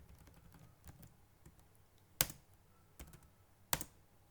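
A computer keyboard is typed on quietly, with soft scattered taps and two sharper, louder key strikes standing out.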